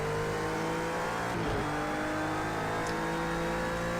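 Renault RS01 race car, black and orange, in a GT3 racing game at Fuji, engine droning steadily at high revs with a brief dip around a gear change, close and continuous with no talk.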